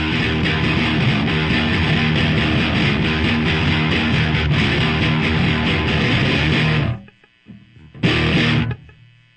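Electric guitar with heavy distortion played through a Marshall amplifier. It rings loud and dense for about seven seconds, cuts out, then returns as one short burst.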